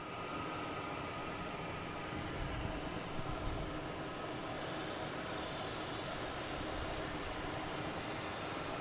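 An Airbus A220 jet warming up its engines at Boston Logan airport, a continuous loud broadband roar with a faint wavering whale-like tone, steady throughout.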